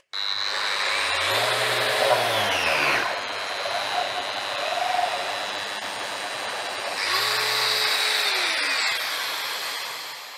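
A Bosch GET 75-150 eccentric sander runs at maximum speed with forced rotation while pressed down hard, giving a loud, steady whine and rasp. The pitch sags under heavy load, the motor cuts out briefly, then it spins up again.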